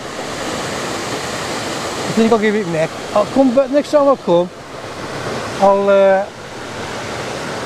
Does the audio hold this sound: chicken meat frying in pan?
no